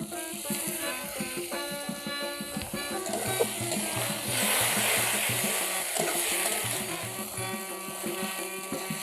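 Spice paste sizzles and fries in a pan after a splash of water, with a steady crackling hiss, some stirring clatter and a brief louder surge of steam midway, under background music.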